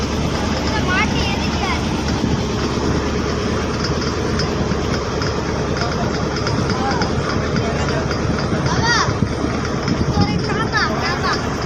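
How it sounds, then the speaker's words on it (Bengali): A motor trawler moves along a jungle shore in the Sundarbans, its engine a steady loud chugging drone throughout, with birds calling faintly in the background. "আমরা দেখতে পাচ্ছেন একদম জঙ্গলের তীর ঘেঁষে যাচ্ছে আমাদের ট্রলারটি"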